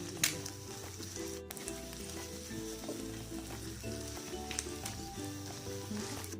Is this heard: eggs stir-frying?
yes